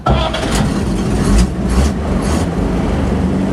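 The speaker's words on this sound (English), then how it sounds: "they put that starter down there so you could give her a little gas at the same time you're cranking it over" An old engine is cranked over by its starter, giving a loud, steady, churning mechanical roar that runs without pause, close by and alone.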